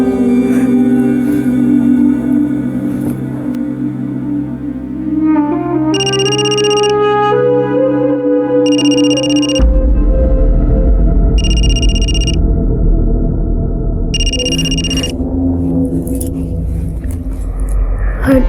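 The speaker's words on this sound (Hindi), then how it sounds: "फोन उठाओ।" A telephone rings in a Hindi crime drama episode: four evenly spaced bursts of bright electronic ringing, loud over background music and a low rumble.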